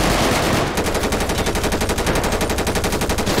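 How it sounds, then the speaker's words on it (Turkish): Rapid automatic gunfire in GTA 5 rattles out in a steady, fast burst of evenly spaced shots lasting several seconds, loud and close, with no talking over it. "Yakınımızda çatışma var arkadaşlar."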